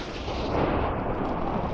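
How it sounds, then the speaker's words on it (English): A Misfortune Explosion spell going off in the Minecraft mod LOTMC, a loud, sustained rumbling blast with crackling noise that holds steady for nearly two seconds. "You can, however, use Misfortune Explosion."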